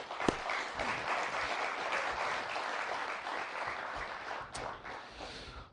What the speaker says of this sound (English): So let's just give a round of applause for the library.